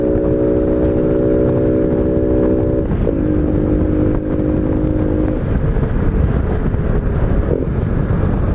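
Honda Biz 125 motorcycle fitted with a sport air filter, ridden on a test ride: a steady, loud engine drone with a sustained tone that shifts pitch as the revs change, heavy wind noise over the microphone and no talking.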